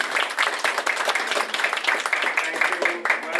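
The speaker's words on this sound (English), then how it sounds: "So big round of applause for Karthik." An audience at a panel event applauds the host, a close, lively burst of many hands clapping in a fast, uneven patter that holds steady throughout.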